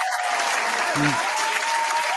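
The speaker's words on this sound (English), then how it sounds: "Round of applause for good intentions" Audience applause rolls on as a dense, even wash of clapping for a couple of seconds, with a short low hum briefly underneath.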